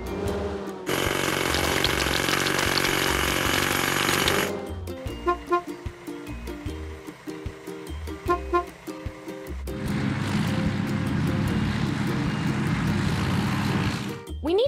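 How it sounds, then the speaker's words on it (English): Loud mechanical hammering bursts alternate with rapid pounding clatter, a hydraulic hammer pounding rock amid synthetic game-style engine noise. "Hydraulic hammer."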